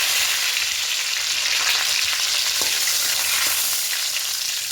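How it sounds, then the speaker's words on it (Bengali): Whole cumin, dried red chillies and bay leaves fry in hot oil, making a loud, continuous close-up sizzle with light stirring scrapes throughout. "তার তেলের মধ্যে ফোড়নে দেবো গোটা জিরে দুটো শুকনো লঙ্কা দেবো আর দুটো তেজপাতা দেবো"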